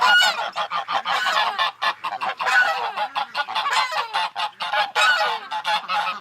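Ducks let out by a homeowner who is training a dog, giving a busy run of loud, close honking and quacking calls that overlap in quick bursts without pause.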